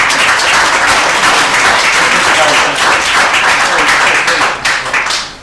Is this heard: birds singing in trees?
no